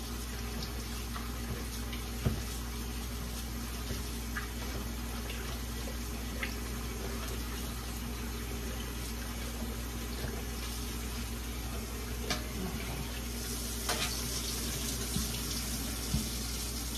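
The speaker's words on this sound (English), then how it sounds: "I'm gonna rinse these shrimps one more time in cold water." Cold tap water runs steadily into a kitchen sink while shrimp are rinsed, a continuous close hiss of flow with a few light clinks and splashes.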